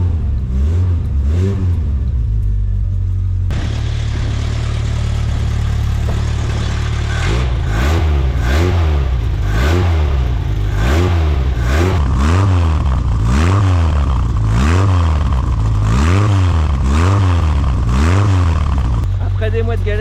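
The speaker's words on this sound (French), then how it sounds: "Ça fait du bien de l'entendre tourner enfin cette bagnole" A Lotus car engine catches and settles into a low idle, then revs repeatedly in steady rising and falling blips, loud and close, with a voice talking over it.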